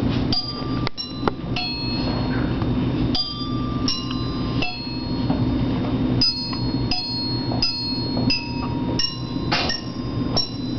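Bells play Hot Cross Buns as a band concert solo, struck notes ringing out in a steady melodic sequence over a constant low background hum, fairly close and clear.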